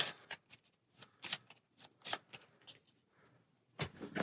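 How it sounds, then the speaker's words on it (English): A deck of cards for the Aeon's End: Return to Gravehold board game being shuffled: repeated crisp riffling bursts in uneven rhythm, close and fairly quiet, with short pauses between and a final burst at the end. "these will get all shuffled up"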